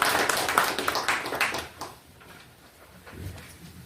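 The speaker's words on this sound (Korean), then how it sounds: "박수로 부탁드릴게요." Audience applause at a victims' information session, a dense patter of clapping in the first two seconds that thins and fades out toward the end.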